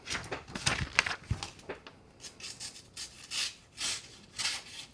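Ozark Trail knife blade dragging and ripping through material as it cuts, a series of close, gritty rasping strokes with short pauses between them, no talk.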